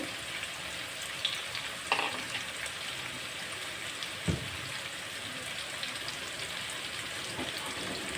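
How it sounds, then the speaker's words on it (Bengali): Lightly salted vegetables for fried rice frying in a pan make a steady, close sizzle like light rain, with a few brief clicks and crackles throughout. "এরকম করে আমি ফ্রাইড রাইসের সাথে যা যা মিক্স করব সব ভাজবো, ভেজে নিই"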